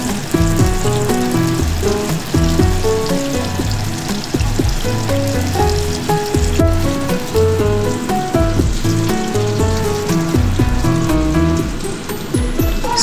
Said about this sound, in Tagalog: So, prito lang po natin lahat.